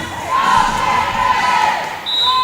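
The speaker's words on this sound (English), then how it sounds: "Crowd starting to get into it a little bit here" Spectators cheer and shout at a girls' high school volleyball game between the Todd County Lady Falcons and Crow Creek Lady Chieftains, a steady, lively crowd roar filling the gym, with whistle-like tones rising near the end.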